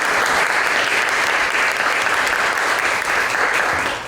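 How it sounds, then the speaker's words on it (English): A luncheon audience gives sustained, dense applause for a guest speaker, loud and continuous throughout, tapering slightly at the very end with no voices over it. "Let's give her another big round of applause."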